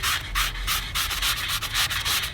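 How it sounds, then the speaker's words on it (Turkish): Rhythmic, scratchy back-and-forth sanding of cracked wood, close and steady, each stroke a brisk hiss with no voices. "iyice zımpara yaparak o çatlakları minimum seviyeye indireceğiz"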